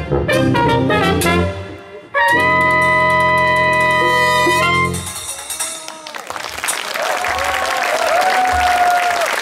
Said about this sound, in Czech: Jo, ten potlesk klidně ještě protáhněte, jasně.